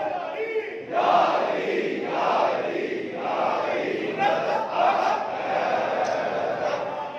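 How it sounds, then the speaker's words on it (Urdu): A crowd at a Muharram majlis chants religious slogans in a sustained, rhythmic roar of many voices rising and falling in waves, heard from behind with a loud, reverberant hall feel. "یہی وجہ ہے کہ نعرے پیچھے سے لگ رہے ہیں، آگے سے نہیں لگ رہا"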